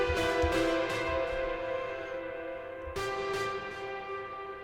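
A saturated, harmonically rich synth tone swells and decays with a long reverb tail and echoing delay repeats, restruck after a pause.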